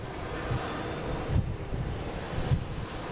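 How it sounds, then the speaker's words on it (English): American and JetBlue airliners on approach to land at Boston Logan, a low distant jet rumble mixed with wind buffeting on the microphone. "Now we have an American and a JetBlue coming in."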